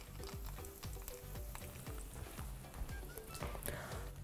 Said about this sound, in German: Und jetzt ins heiße Öl.